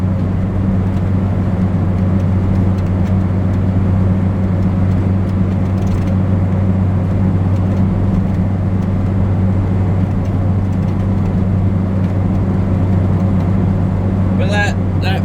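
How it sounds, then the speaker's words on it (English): A Talbot Express van is driven flat out, its engine droning loudly and steadily from inside the cab with a sustained tonal gearbox whine layered over constant road and wind noise. "that whining from the gearbox does worry me slightly"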